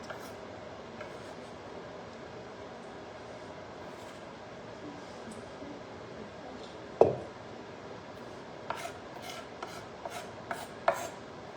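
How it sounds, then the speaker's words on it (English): A knife chopping cilantro for birria tacos, faint and steady at first, then a sharp knock followed by a series of quick, distinct cutting strokes up close, with no talk. "We're just chopping up some cilantro for it."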